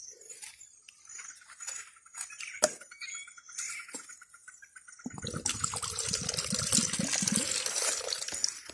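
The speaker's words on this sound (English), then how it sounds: "we have our coconut water. We pour it in here." Coconut water poured into a container for banana and plantain tissue culture, starting with light glassy clinks and then becoming a steady, close liquid splashing pour for the last few seconds.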